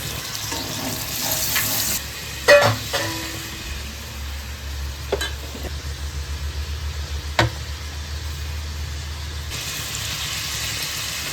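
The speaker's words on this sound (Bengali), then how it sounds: "পেঁয়াজগুলো প্রায় ভাজা ভাজা হয়ে গেছে" Onions frying and being stirred in a pan, on the way to chicken korma: a steady close sizzle with a few scraping stirs and small clatters of the spatula, no talking.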